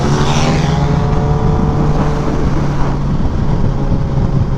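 Kawasaki ZX10R sport motorcycle fitted with an SC Project exhaust, its engine running steadily loud and near with a buzzing multi-harmonic drone, wind rushing over it and no talking.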